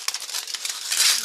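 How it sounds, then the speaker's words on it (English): Aluminum powder poured from a ball mill into a glass mason jar, giving a brief, close, hissing rustle of fine grains that swells toward the end. "we're going to dump this into a mason jar so that we can classify it"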